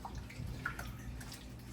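Chicken pieces washed by hand in water with salt and lemon juice, giving soft, faint sloshing and drips in a quiet kitchen, with no talk.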